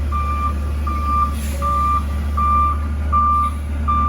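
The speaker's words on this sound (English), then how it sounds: "the garbage truck is backing up and then turning" A garbage truck's steady reversing beep repeats about every three quarters of a second over a low, idling engine rumble.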